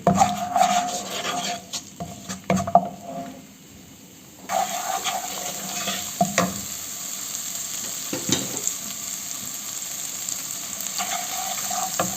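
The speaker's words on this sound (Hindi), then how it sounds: "बस अब हम ये ड्राई सारे जो हैं ये ऐड करते हैं, और इसको हल्का सा भून के फिर इसमें ग्रेवी शामिल करनी है" Dry spices sizzle in a hot pan while a palak paneer gravy is being prepared, with close, steady frying noise and scraping from stirring. The sizzle briefly drops away before returning just as strongly.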